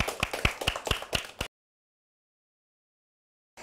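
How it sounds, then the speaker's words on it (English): A group of children clapping together in a burst of quick, uneven claps for about a second and a half, close and lively, then silence. "give yourselves a very big clap."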